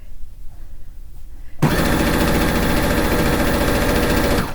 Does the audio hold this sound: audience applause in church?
no